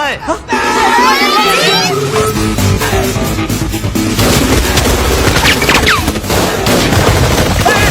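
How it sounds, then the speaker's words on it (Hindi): Rapid bursts of gunfire crackle through a loud, chaotic film comedy scene, with shouting voices crying for help and commotion layered over the shots. "गोलियां चल रही है, बचाओ!"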